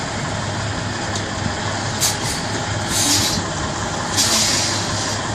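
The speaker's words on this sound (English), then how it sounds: "See the truck is pivoting around." A tractor-trailer truck reverses and pivots into a loading dock, its engine rumbling steadily at low revs while short hissing bursts of air brakes release several times.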